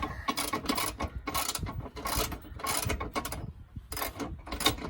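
Ratchet wrench snugging bolts on a Polaris Ranger utility vehicle, a close, rapid series of clicking and grinding strokes in repeated bursts with brief gaps, loud and with no talking.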